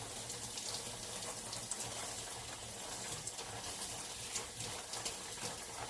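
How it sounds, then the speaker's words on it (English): Tap water pours steadily into a kitchen sink to rinse raw meat, a continuous even hiss with no talking over it. "I always like to rinse my meat off anyway"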